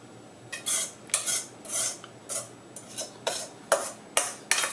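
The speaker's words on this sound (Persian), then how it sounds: "قشنگ سیب زمینی رو پهن کنین داخلش" Potato slices are spread and pressed into hot oil in a wide frying pan, with a series of sharp scraping and clinking utensil strokes against the pan, close and distinct.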